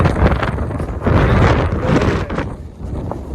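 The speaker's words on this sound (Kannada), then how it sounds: "ನಮ್ಮನ್ನೇ ತಳ್ತಾ ಇದೆ ಗಾಳಿ" Strong wind blasts against the microphone on a hilltop trek at Shivagange, a loud, rough, continuous roar that swells and eases over a few seconds. No voices are heard.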